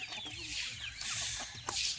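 Desi chickens cluck steadily on a farm, several birds close by producing a continuous busy mix of clucks and brief squawks under outdoor ambience.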